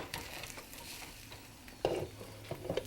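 Ghee-cooked Indian flatbread pressed and flipped on a hot pan, soft quiet sizzling with a few brief taps and scrapes of the utensil against the pan.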